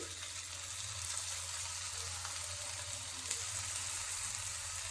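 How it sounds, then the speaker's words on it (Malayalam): Carrot vadas dropped one by one into boiling oil for frying, producing a soft, steady sizzle and crackle that stays faint and even throughout, with no voices. "ഓരോന്നായിട്ട് ഇട്ട് കൊടുക്കാം തിളച്ച എണ്ണയിലേക്ക്"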